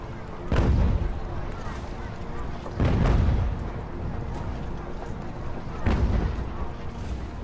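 Cannon fire on an 18th-century battlefield in the video game Ultimate General: American Revolution, three heavy booms spaced a few seconds apart over a constant rumble of battle.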